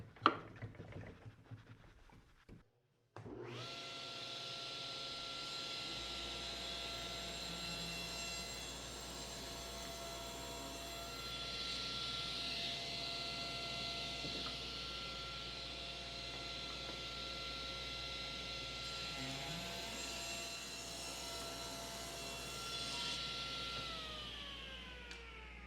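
Power saw cutting a one-eighth-inch kerf into a wooden float frame for an oil painting panel: a brief clatter, then a loud, steady whining drone that holds for over twenty seconds and tapers off near the end.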